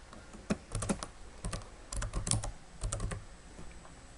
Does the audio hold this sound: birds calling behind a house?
no